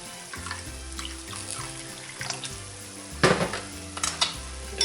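Water poured into a bowl of soy sauce, brown sugar and sesame oil while cooking crispy Mongolian chicken, a short close splash over kitchen clatter and faint sizzling.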